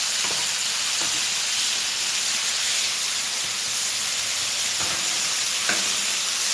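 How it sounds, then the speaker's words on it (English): Onions and peppers sizzle loudly on a hot Blackstone griddle, a dense steady hiss close by with a couple of faint scrapes or clicks of stirring. "There's that sizzle."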